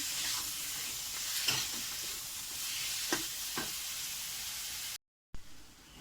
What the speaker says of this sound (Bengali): তো এখানে আদা লঙ্কা জিরে এর সঙ্গে মিশিয়ে দেওয়া হলো। দিয়ে এটা ভালো করে কষাবো